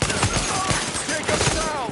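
Rapid gunfire from Tom Clancy's The Division rattles in dense bursts across the whole stretch, with game voices and other action layered beneath.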